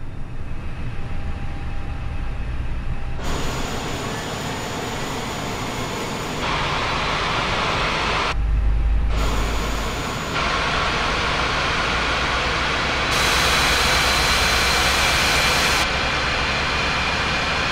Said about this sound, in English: You can start the engines in sequence.